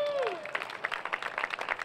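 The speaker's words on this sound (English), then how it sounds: "Give it a round of applause." Light clapping from a small crowd at a fire station groundbreaking press conference in Fort Worth, short and fairly faint, following a brief voice.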